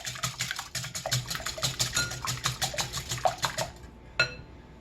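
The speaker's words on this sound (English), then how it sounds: "In my bowl, I have my 2 eggs that I'm beating up" A whisk or fork beats two eggs in a bowl, quick regular clicking strokes at a steady rhythm for several seconds, close and clear, then stopping with one last tap.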